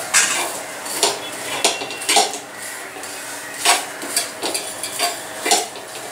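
Clattering pan and utensil sounds as Sindhi koki flatbread is flipped in a lightly oiled pan, with a string of sharp, close knocks and scrapes spread through the clip over a steady background hiss.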